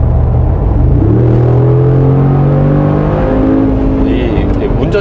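A 2019 Mercedes-AMG G 63 Edition roars loudly under full acceleration, the deep engine note rising in pitch through the gears before a shift near the end.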